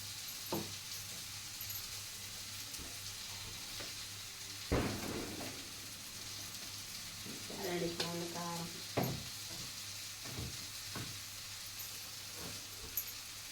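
Onions and turmeric fry in a pan at low level, with a soft steady sizzle broken by a few louder stirring clatters and scrapes and brief voice fragments.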